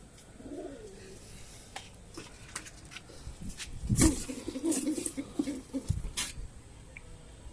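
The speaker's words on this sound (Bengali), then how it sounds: "এর ভিতরে নতুন অতিথি কবুতর আসতেছে কিন্তু বুঝতে পারতেছি না যে কোনটা আমার আর কোনটা অতিথি কবুতর" Pigeons coo in a coop on a hot day, with soft repeated throaty calls rising and falling. Scattered rustles and light wing or foot taps come from the birds moving around nearby.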